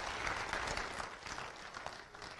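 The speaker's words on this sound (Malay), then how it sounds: "Kita persilakan dan kita berikan tepukan untuk Dr. Jalani, tuan-tuan dan puan-puan." A crowd applauds steadily at a lecture, a dense wash of clapping heard at a moderate distance, fairly quiet and unbroken throughout.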